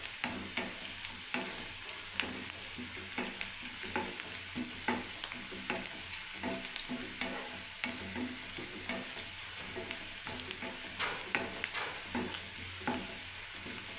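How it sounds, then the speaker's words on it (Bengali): Onions frying in a pan and being stirred, a steady sizzle with repeated scraping strokes of the spoon, close and continuous with no talk. "এখনো ভাজা হচ্ছে"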